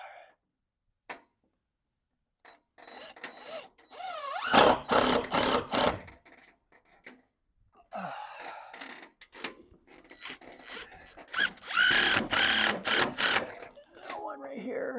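A power drill drives screws into the exterior wall of an off-grid cabin during reconstruction, with several short whirring bursts separated by pauses, close and fairly loud, and someone talking in between.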